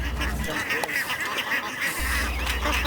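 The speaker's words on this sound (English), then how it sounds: "Who said you can't herd ducks?" A flock of ducks quacking while a farmer herds them along a riverside street in China, a busy overlapping chorus of calls over steady outdoor background noise.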